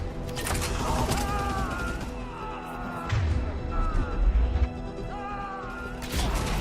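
Gunfire rattles through a Mass Effect 3 battle against turrets, with repeated bursts and impacts, some heavy thuds, and voices talking over the combat.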